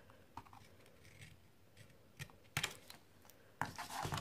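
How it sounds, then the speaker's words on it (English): Paper is being cut with scissors to make an envelope, a few quiet snips and rustles close by, ending in two sharper, louder cutting bursts. "I'm just going to go ahead and cut it right here."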